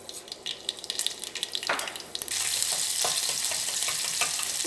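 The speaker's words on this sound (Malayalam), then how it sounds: "ആ വെളിച്ചെണ്ണ നന്നായിട്ട് ചൂടായിട്ട് ഇതിലേക്ക് നമുക്ക് കടുക് ഇട്ടിട്ട് പൊട്ടിക്കാം." Mustard seeds hitting hot coconut oil in a pan for a Kerala potato coconut-milk curry, a few scattered pops giving way to a dense, steady sizzle and crackle close by.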